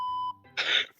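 A short, clean electronic censor beep at a single steady pitch lasts about a third of a second during a French-language Minecraft stream, followed by a brief breathy burst of noise.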